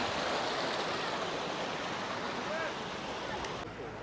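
Water rushes steadily over a road water crossing in the hills of Buner, a dense, continuous roar that fills the whole stretch, loud and close.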